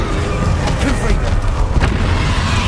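Blasting spell explosions in Hogwarts Legacy during a final boss fight, a dense, loud, rumbling barrage of booms with a raised voice over the top.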